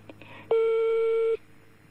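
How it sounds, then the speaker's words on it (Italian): A telephone ringback tone on an outgoing call: a single clear, steady electronic tone lasting under a second after a couple of faint clicks, loud and alone. "era uno squillo questo."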